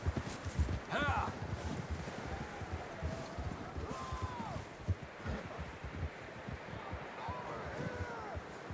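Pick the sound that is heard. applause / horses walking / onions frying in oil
horses walking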